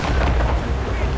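Ship cannons boom in heavy, overlapping volleys during a naval battle in the video game Assassin's Creed Rogue, a loud, dense, continuous rumble of blasts with shouting voices mixed in.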